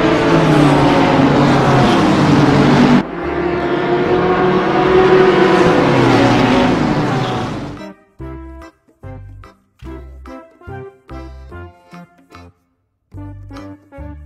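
Toy race car engine roars loudly and steadily for several seconds, then gives way to rhythmic, pulsing toy-like tones that continue in short bursts to the end.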